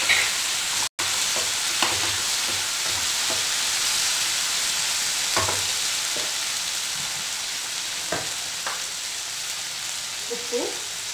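Capsicum frying in oil in a pan, a continuous loud sizzle with occasional scraping clicks from stirring throughout.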